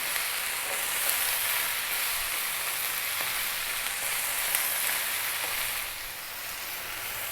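Vegetables and curry spices fry on high heat for a vegan biryani, giving a steady, dense sizzle and hiss with faint stirring scrapes throughout, dipping slightly near the end.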